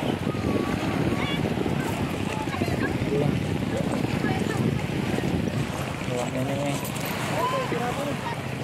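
Steady wind and lapping water at a pier on Untung Jawa island, a boat just docked nearby, with people talking faintly in the background throughout.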